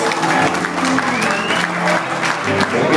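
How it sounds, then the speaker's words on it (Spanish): Crowd applause and cheering at a live concert at a Hard Rock Café, a dense, steady wash of clapping that stays loud and continuous throughout. "Vamos a darle un aplauso para Alberto Benavé Bebeto y Producciones."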